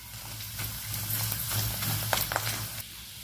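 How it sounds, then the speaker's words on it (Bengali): Papad fries in hot oil in a wok with a steady, fairly quiet sizzle and a few sharper crackles near the end, no voices. "তেলটা গরম হয়ে গেছে, এবার আমি পাঁপড়গুলো দিয়ে ভেজে নেব।"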